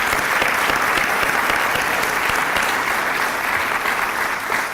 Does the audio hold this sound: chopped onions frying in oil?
no